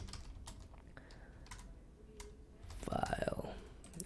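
Brief burst of typing on a computer keyboard, a quick run of soft clicks close by, set against a quiet room.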